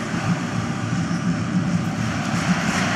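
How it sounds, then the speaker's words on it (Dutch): A helicopter carrying the cup arrives over a football stadium after an Anderlecht versus Lokeren match, a loud, steady engine and rotor drone filling the whole stretch without speech. "En daar komt de helikopter met de beker."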